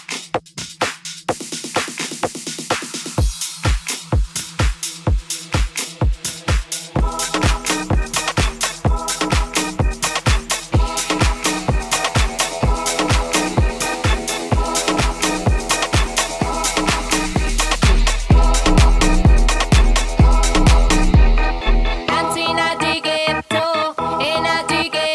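A DJ mix moves roughly from one track into another with improper phrasing; loud electronic beats with pounding kicks and layered synths overlap and clash before the switch near the end.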